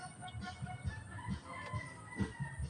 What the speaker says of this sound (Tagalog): Ito yung inahing ko isa, ililipat ko.